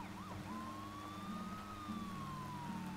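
An ambulance siren in the bridge-building video game Poly Bridge 2: a continuous wailing tone that rises and falls, heard faintly under steady background noise.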